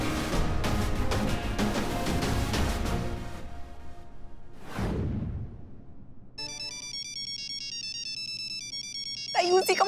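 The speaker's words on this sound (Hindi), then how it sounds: "उसी का फोन मत उठा," A telephone rings with a repeating electronic tone in a TV crime drama scene, entering partway through over music and a whoosh, fairly loud and steady until a final burst.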